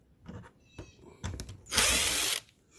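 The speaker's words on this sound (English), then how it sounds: "let me get my screwdriver, take those out" Screwdriver working Phillips head screws out of a car fog light housing, several short clicks and scrapes followed by a loud, sustained whirring burst lasting about half a second, close by.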